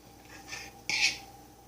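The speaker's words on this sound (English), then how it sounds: "my butter's melted all on the bottom of the pan, so I'm just going to dump my eggs in here" Beaten eggs hit a pan of melted butter with one short, bright sizzling splash after a quiet moment, then fade.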